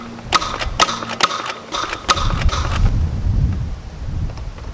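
Adventure Force Tetrashot toy dart blaster being cocked and fired outdoors, a run of sharp plastic clicks and ratcheting mechanism snaps followed by a breezy wind rumble.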